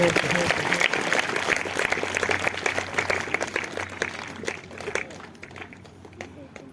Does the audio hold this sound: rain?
no